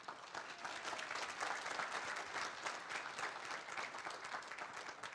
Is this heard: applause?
yes